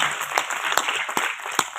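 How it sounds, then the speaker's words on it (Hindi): An audience at a poetry gathering applauds steadily, dense hand-clapping with a few sharper claps standing out, sustained throughout the brief moment. "तालियां बजा दीजिए ना।"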